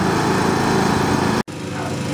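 John Deere riding lawn mower engine running steadily, a loud close droning hum that drops out for a split second and then continues, with no speech.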